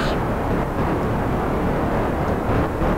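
Kerbal Space Program rocket engines roar at liftoff, a steady, dense, loud rumble with broad noisy hiss that holds without a break for a few seconds.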